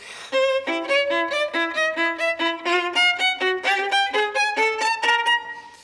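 Solo violin playing sforzandi from Beethoven's Kreutzer Sonata: a rapid run of sharply accented, detached notes in a steady driving rhythm, close and loud, with no talking.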